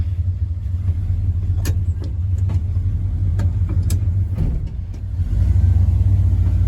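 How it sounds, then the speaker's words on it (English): A small truck drives over rough ground and revs, a low steady engine rumble that climbs in the last seconds, with knocks and rattles heard along the way. "This little truck wants to get stuck everywhere I go."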